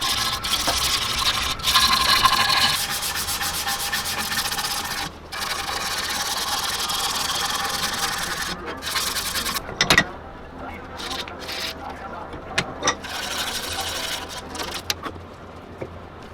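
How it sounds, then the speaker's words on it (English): Continuous rasping friction of sanding a roughly carved wooden swimbait fishing lure, with short pauses and occasional knocks, steady and close by. "And so the sanding begins."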